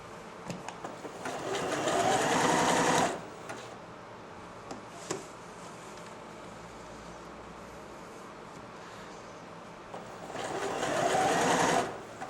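Janome 760 sewing machine running in two bursts of steady, loud stitching at the start and end, separated by quieter mechanical ticking and clicks while the machine idles.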